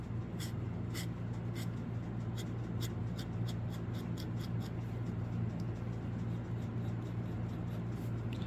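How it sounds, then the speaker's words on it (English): Rigid-nibbed ink pen drawing manga speed lines on paper: a steady run of short, evenly repeated scratchy strokes, close and quiet, over a constant low hum with no talk. "This is the pen that I like to use to make my speed lines"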